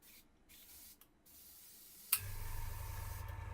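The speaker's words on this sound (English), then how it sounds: "It's spraying a little bit thick, but we'll give it a go." An airbrush starts with a sharp click and then sprays somewhat thick paint steadily, a close, even hiss that continues to the end.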